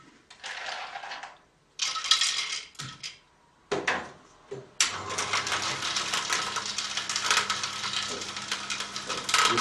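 An Omega 8006 juicer grinding peanuts into nut butter, starting with short bursts of clattering and crunching before settling into a steady loud grinding drone, close by.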